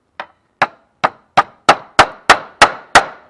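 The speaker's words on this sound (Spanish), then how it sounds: "terminamos de clavar" A hammer drives a nail into a wooden picture frame with nine sharp, close wooden knocks at a fairly even pace, each ringing briefly before the next.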